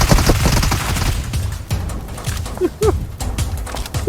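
Rapid gunfire in PUBG Mobile, dense repeated shots running through most of the stretch, loud and close, with short gaps and a brief voice near the end.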